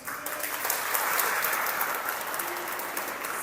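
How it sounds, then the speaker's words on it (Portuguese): An audience applauds steadily for a couple of parents invited to stand at a talk on emotions and communication, a dense, even wash of clapping from a crowd lasting the whole stretch without speech. "aplausos."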